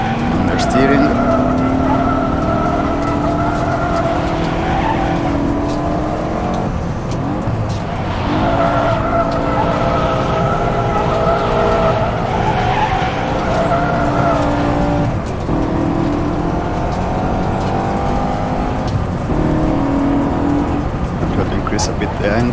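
A BMW M5 drifts in the rFactor2 racing sim, engine notes rising and falling in long sweeps with tire squeal layered on top, continuous and loud.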